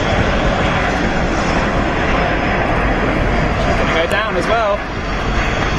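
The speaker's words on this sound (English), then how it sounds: "Beautiful new aircraft here. I believe Swiss is the air carrier." Jet engines of a Swiss-operated Embraer airliner roar loudly and continuously nearby as a broad, steady rush, with people talking over the noise.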